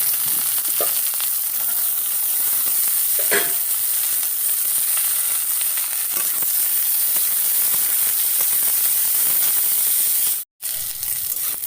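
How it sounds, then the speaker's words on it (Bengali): Potato, radish, eggplant and bitter gourd fry in hot oil with a loud, continuous sizzle and hiss and occasional stirring scrapes, cutting off abruptly near the end. "আলুটা হালকা ভাজা হয়ে গেছে এটা দিয়ে দিচ্ছি অন্য সবজিগুলো মূলা বেগুন আর করলা"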